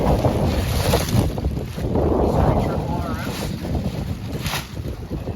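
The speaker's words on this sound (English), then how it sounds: "Ooh, and it's windy today." Rough, gusty wind buffeting the microphone outdoors beside a 2024 Triumph Street Triple RS motorcycle, a low rumbling roar throughout with brief louder bursts, while a person speaks over it.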